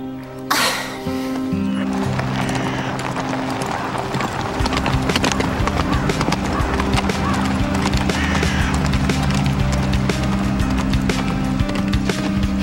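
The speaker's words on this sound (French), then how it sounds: "Allez, descends de ton cheval." A horse's hooves clip-clop in a steady, loud rhythm close by, along with a neigh near the start, over a continuous music-like background.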